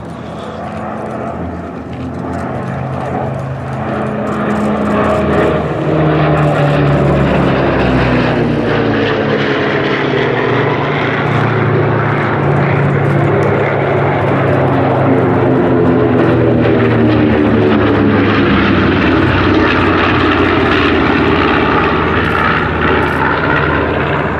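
Douglas DC-6 four-engined propeller airliner flying a solo display at the Duxford Flying Legends air show, its loud, sustained piston-engine drone swelling and shifting in pitch as it passes overhead.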